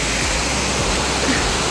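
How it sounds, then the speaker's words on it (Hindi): Waterfall beside the road to Gangotri, a loud, dense, unbroken roar of falling water filling the whole moment. "यहाँ पे हमारे दोस्त लोग झरने का एंजॉय कर रहे हैं, पानी आ रहा है"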